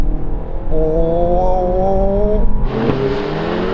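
Honda Civic Type R, VW Golf GTI Clubsport and Renault Megane RS trophy accelerating hard together from a rolling start in third gear, engines droning loudly with rising pitch until a gear shift near the end; a brief exclamation is heard.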